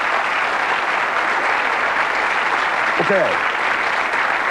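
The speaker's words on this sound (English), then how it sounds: "Give them a round of applause." Studio audience applause on the 1980s TV game show Bullseye: a dense, even wash of clapping fills the whole stretch at steady loudness, with a brief spoken word from a voice partway through.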